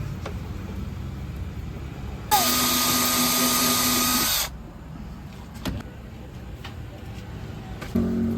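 A power drill drives a screw into a kitchen fitting inside a converted camper van, one steady whine of about two seconds with quieter room noise before and after.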